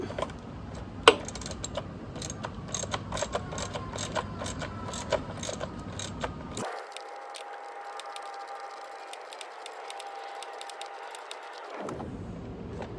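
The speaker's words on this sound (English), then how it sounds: "So we'll put the wrench on the one side to hold the nut, while on this side we tighten it up." A wrench tightens a nut on a battery lock kit while another wrench holds the nut on the far side. Repeated close ratcheting clicks and metallic rattles come first, then a steadier mechanical whir with faint ticking.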